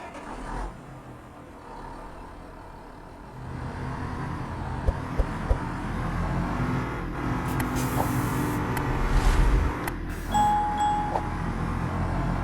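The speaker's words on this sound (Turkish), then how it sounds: "Aracın sesi gayet güzel, başarılı." A working truck's engine rumbles low and steady, hauling straw on the road, while a few bright chime-like tones and hissing noises ring out over the drone partway through.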